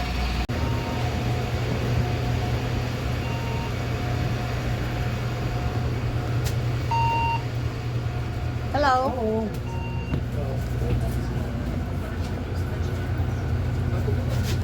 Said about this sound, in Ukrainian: Вон і наш автобус під'їжджає.